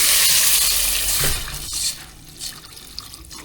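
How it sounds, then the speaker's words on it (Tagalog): Water is poured into a cooking pan of sizzling tomato, garlic, onion and ginger, giving a loud splashing rush that fades within a couple of seconds into quieter bubbling. "Lagyan na po natin ng tubig."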